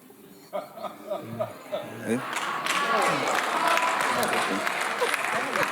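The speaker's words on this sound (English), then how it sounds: "The men are clapping too hard." Clapping breaks out partway through and builds into dense, sustained applause from a panel discussion audience, with voices and laughter early on before it.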